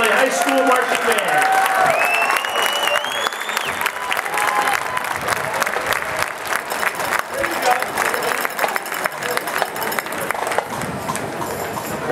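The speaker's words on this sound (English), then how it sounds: "Another nice round of applause for the Steel Valley High School Marching Band." Crowd applause for a high school marching band at an outdoor band show, a dense, sustained wash of clapping and cheering that holds steady and close throughout, with no break.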